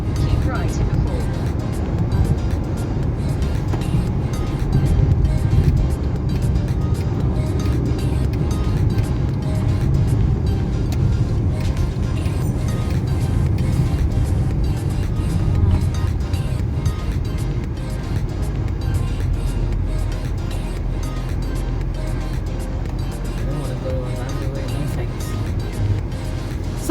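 Steady road and engine rumble from inside a car cruising along a UK highway, continuous and fairly loud for the whole stretch with little change, with no talking over it.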